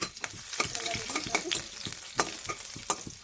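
Cumin, mustard seeds and garlic crackle and sizzle in hot oil, with a spoon stirring and scraping the pan in quick, close clicks and taps over a steady frying hiss.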